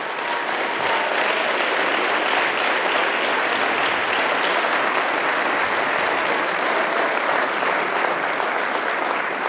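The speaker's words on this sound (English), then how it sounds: "So let us all, with huge round of applause, congratulate the 25th anniversary of the independence of Armenia." An audience at an Armenian Independence Day concert in Las Vegas applauds loudly and steadily, a dense, sustained wash of many hands clapping that carries on without a break.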